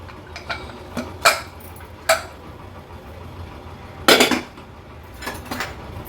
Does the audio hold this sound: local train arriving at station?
no